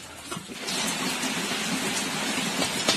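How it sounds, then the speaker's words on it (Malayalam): Heavy rain falls outside a kitchen where rice payasam is cooking over a fire, a dense steady hiss with no break. A few soft knocks sound near the start. "നല്ല മഴയാണ് കേട്ടോ, നല്ലോണം മഴയൊക്കെ പെയ്യുന്നുണ്ട്"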